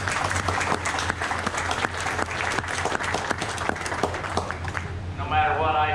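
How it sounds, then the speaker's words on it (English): A crowd at a county fair heifer show applauds the exhibitors, sharp claps rattling close and loud for several seconds before dying away as a voice comes in. "Let's give this group of exhibitors a nice round of applause."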